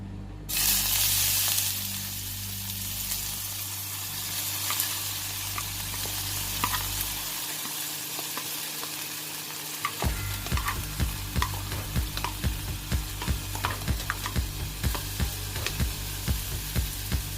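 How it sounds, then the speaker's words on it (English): Chopped onions and scallions sizzle and crackle in hot oil in a pan for a Jamaican-style ziti casserole, with repeated stirring and scraping clicks growing more rhythmic toward the end, close and steady with no talk. "chopped onions and escallions. Saute these first."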